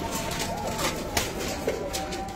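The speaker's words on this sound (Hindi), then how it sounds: "ये देखो एक 10 वाला 35 वाला कबूतर है" Pigeons cooing softly among birds for sale at a rooftop pigeon loft, low murmuring coos with a few brief louder calls over steady background noise.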